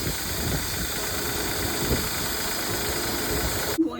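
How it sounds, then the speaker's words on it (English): A Honda Pilot engine idles on a cold start with a timing belt tensioner fault, producing a steady close mechanical rattle and hum that ends abruptly. "this is the cold start rattle on my Honda Pilot"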